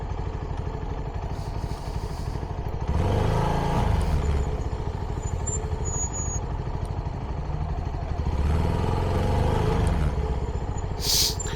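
A CFMoto 300nk motorcycle on its stock exhaust, a steady mid-pitched engine drone that swells twice as the revs rise, heard up close with no talking.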